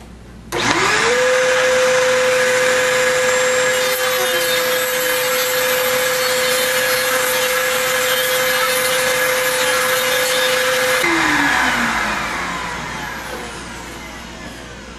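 A saw cuts through an old wood cleat on an arcade cabinet while a shop vacuum runs alongside, a loud steady whine and rasp holding for about ten seconds before the cut ends and the vacuum winds down.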